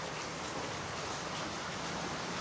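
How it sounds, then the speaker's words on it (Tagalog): Steady dense rain falls at a resort swimming pool in Albay, a constant even hiss with no pauses and no other sounds standing out. "Maulan kasi dito sa amin sa Albay."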